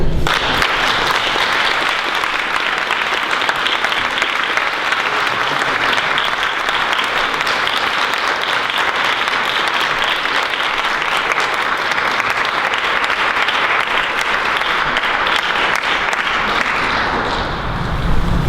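Sustained, dense applause from a large audience at a panel discussion fills the whole stretch, steady and loud, easing slightly near the end.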